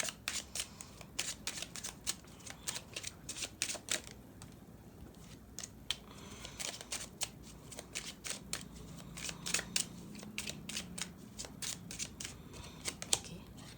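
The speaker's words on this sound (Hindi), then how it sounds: "हम पहले एक शफलिंग कर लेते हैं आप लोगों के लिए" Tarot cards being shuffled by hand, rapid bursts of crisp riffling and flapping in repeated rounds with short pauses, close and moderately quiet.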